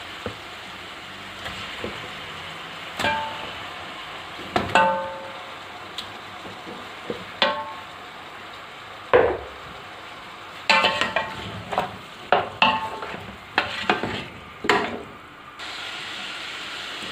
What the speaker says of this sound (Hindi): इस गोश्त को अच्छी तरह से अब हमें भूनना है ताकि जो इसकी स्मेल है वो ख़त्म हो जाए।